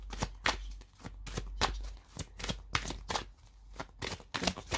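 Angel love oracle cards are shuffled by hand, a quick series of crisp riffling bursts and soft slaps repeating close to the microphone, with no talk.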